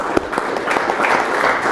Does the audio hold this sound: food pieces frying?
no